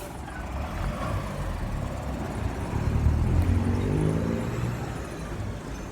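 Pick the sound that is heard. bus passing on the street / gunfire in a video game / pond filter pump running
bus passing on the street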